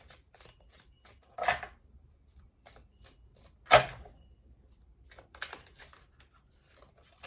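Angel number cards are shuffled in short bursts of riffling and sliding, with two sharper flurries standing out among soft papery taps, close and quiet with no talking.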